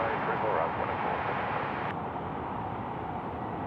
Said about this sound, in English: Etihad now just rolling through nicely here on runway 34 left.